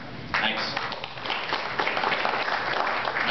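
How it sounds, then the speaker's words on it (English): Audience applause at a Colorado governor candidates forum, clapping that breaks out abruptly after a brief quiet moment, then continues as a dense, moderately loud patter from a hall of listeners. "I didn't want to cut off your applause there."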